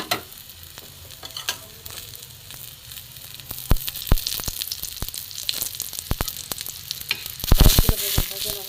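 Bread slices sizzle steadily in hot oil. Sharp clicks and scrapes of a utensil cut in now and then, with a louder clattering burst near the end. No voices are heard.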